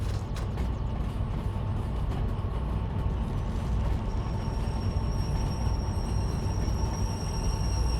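A long freight train in the Derail Valley video game rolls and brakes under steady rumbling wheel and car noise, with metallic creaks and a thin high brake squeal emerging partway through and sustained to the end, no voices.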